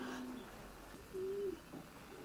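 A blue Bouchard racing pigeon cock coos softly, with a short low call and then a second drawn-out coo, faint and close in a quiet loft.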